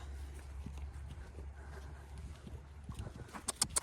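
A horse working on a lunge line over ground poles, hooves thudding softly at a steady pace at a middle distance, with faint background noise and a few sharper knocks near the end.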